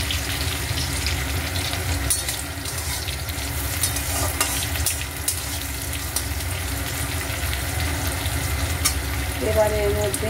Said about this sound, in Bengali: আমি তেলে একটু গরম মশলা ফোড়ন দিয়ে দেবো।